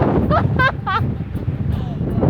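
Strong, cold wind buffets the microphone in rumbling gusts in snowy mountains while a person cries out briefly.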